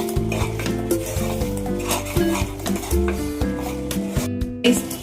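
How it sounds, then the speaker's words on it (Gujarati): A spoon scrapes and stirs spices into sizzling whole onions in a pan, with rhythmic metallic clinks over a steady frying hiss, close up. "મસાલો મિક્સ કરી દઈશું"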